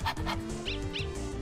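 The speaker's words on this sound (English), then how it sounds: "As the dog is barking excitedly." Dog barking excitedly in the Undertale video game, a handful of quick chiptune-style yips over a looping game tune, short and close with no talk.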